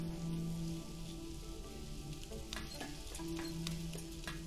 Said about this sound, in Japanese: ホットプレートに気をつけなよって言われましたが、もちろん、ジュージューカルビって感じやね